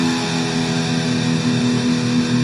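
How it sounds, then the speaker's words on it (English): A sustained, heavily distorted electric guitar tone through a Metal Zone pedal with the distortion knob fully up rings out steadily and loud, thick with buzzing harmonics, with no voices. "If you crank the Metal Zone all the way up on the distortion knob, you'll get a sound something like this."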